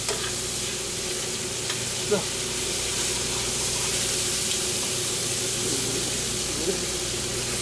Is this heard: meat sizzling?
yes